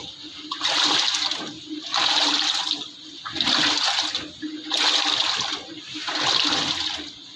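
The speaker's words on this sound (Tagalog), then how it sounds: "Then yung wash cycle niya. Wash cycle na po yan." An LG washing machine runs its wash cycle with an open panel, water sloshing in about five rhythmic surges, each swelling and fading as the drum turns back and forth, close and fairly loud.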